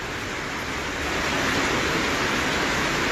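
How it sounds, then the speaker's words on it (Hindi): Heavy monsoon rain in the Himachal Pradesh hills, with a muddy flood torrent carrying debris, gives a loud, steady broadband roar of pouring water and rushing flow that holds without break. "हिमाचल प्रदेश में पिछले कई दिनों से लगातार बारिश हो रही"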